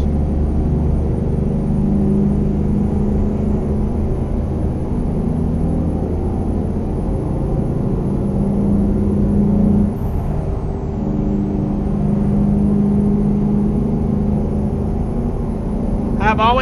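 A Peterbilt 379 with a 520 hp engine in American Truck Simulator, hauling meat: a steady, loud low diesel rumble with a faint high whine, droning continuously throughout, with a brief air hiss near the end.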